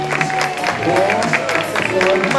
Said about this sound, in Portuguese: Então, aplausos!